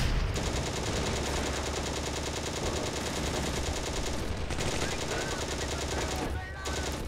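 Sustained machine gun fire in the World War II tank game Steel Fury during Operation Barbarossa at the Bug River, a dense continuous rattle of rapid shots with brief gaps near the end, loud and close.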